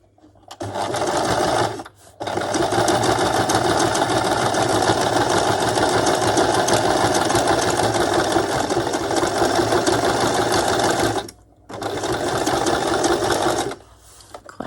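A sewing machine runs steadily while stitching a fabric journal cover pieced from scraps, a loud continuous mechanical whir that stops briefly twice before resuming.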